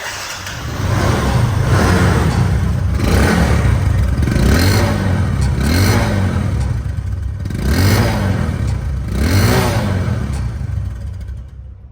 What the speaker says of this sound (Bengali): বাইকটি সাউন্ড কোয়ালিটি শোনাবো সাউন্ড